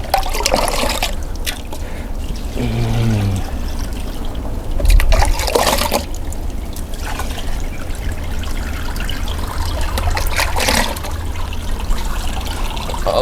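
Water trickles and pours through growing medium to flush out fertilizer, a steady close liquid flow with splashing and dribbling throughout, no voices.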